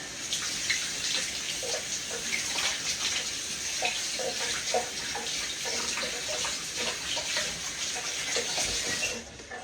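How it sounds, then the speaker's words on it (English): Water runs steadily from a kitchen tap during handwashing, a continuous close splashing rush that lasts throughout and cuts off right at the end, with no talking. "Let me wash my hands good."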